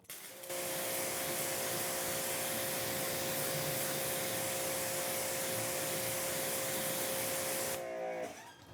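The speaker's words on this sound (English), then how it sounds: "let's use our pressure washer to test the hydrophobicity of both of these products" A pressure washer sprays water onto a car coated with Xtreme Solutions Topper, a loud, steady hiss and motor whine that starts abruptly, holds for about seven seconds and then cuts off.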